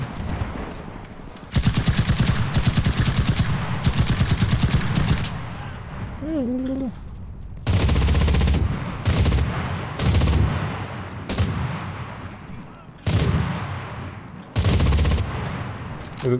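Automatic weapons fire in the World War II shooter game Enlisted, during a Market Garden battle: long loud rapid bursts alternating with short volleys and brief pauses, close and dominant, with a faint voice heard briefly between bursts.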